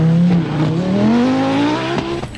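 An Audi Quattro Group B rally car drives past with a loud, close engine note that climbs steadily in pitch as it accelerates through the gears, with a brief sharp break near the end.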